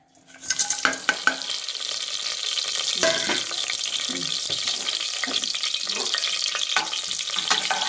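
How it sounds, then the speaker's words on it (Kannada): Whole spices such as bay leaf, fennel, star anise, cardamom, cinnamon and cloves frying in hot oil for vegetable pulao: a steady close sizzle with a few sharp clinks and scrapes of a spoon against the pan, no voices. "ಎಣ್ಣೆ ಕಾಯ್ತಾ ಇದೆ, ಅದಕ್ಕೆ ಪಲಾವ್ ಎಲೆ, ಕಲ್ಲುವ್ವ, ಸೋಂಪು, ಚಕ್ರ ಮೊಗ್ಗು, 1-2 ಏಲಕ್ಕಿ, 1 4 ಚಕ್ಕೆ, 1-2 ಲವಂಗ, ಇಷ್ಟನ್ನು ಫ್ರೈ ಮಾಡ್ಕೊಳಕ್ಕೆ ಹಾಕೋಣ"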